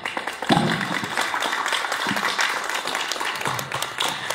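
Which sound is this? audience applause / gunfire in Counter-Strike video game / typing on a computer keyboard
audience applause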